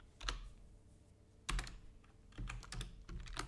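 Typing a script on a computer keyboard, quiet clusters of crisp key clicks in short bursts with brief pauses, close up, with no talk.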